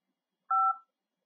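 One short telephone keypad tone from pressing the 5 key on an automated hearing-impaired phone service, a clean two-pitch beep lasting about a third of a second in otherwise silent surroundings.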